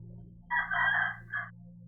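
A rooster crowing nearby, one clear drawn-out call with a short tail note, heard over a low steady background hum.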